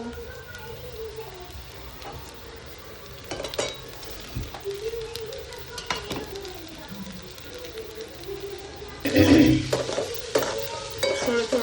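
Chopped cabbage stirred and frying in a home kitchen pan, with soft sizzling, scraping spoon strokes and occasional metallic clinks, growing louder near the end, while someone talks.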